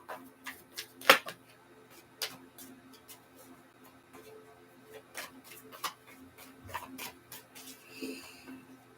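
A Hoodoo tarot deck is shuffled by hand, giving soft irregular clicks and light card snaps scattered across the stretch, close and fairly quiet, with a brief flutter near the end.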